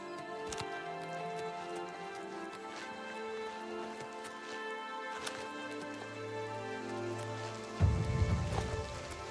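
Rain falls in Oblivion Remastered as a soft steady patter under game music, with a muffled thud near the end.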